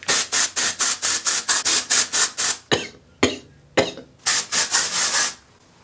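Brisk rubbing of dry shampoo into hair, a run of about a dozen quick rhythmic scrubbing strokes up close, a brief pause with a few scattered rubs, then another burst of rapid strokes.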